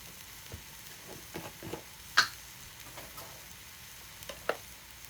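Onions and green peppers fry quietly in a pan, a faint sizzle with scattered soft ticks and a few sharper clicks of a utensil; no voices.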